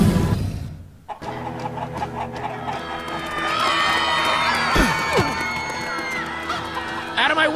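Chickens clucking in the Minecraft: Story Mode video game, mixed into a busy game scene with crowd noise, music and shouting voices; the fowl calls sit among the louder background sounds rather than standing alone.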